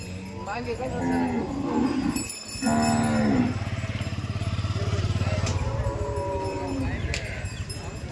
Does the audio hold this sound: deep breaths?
no